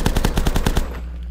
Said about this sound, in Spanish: Me encanta esta ametralladora